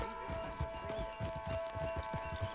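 Hooves clip-clop in a steady, repeated rhythm as a horse is ridden in a video game, moderately faint under a sustained musical tone, with no speech.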